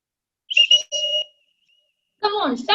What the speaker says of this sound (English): when I will blow the whistle, both of you have to come in the middle